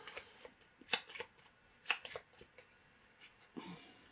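Playing cards for the board game Gloomhaven: Jaws of the Lion being shuffled by hand, a close series of riffling bursts and quick snaps with pauses between, heard without talk.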